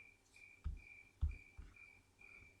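Crickets chirp in a steady repeating trill, faint and distant, with a few soft low thumps breaking in between.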